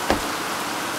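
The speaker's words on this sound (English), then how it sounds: "It's pouring like crazy out here." Dense, steady hiss of heavy rain pouring down, with a brief soft thump near the start.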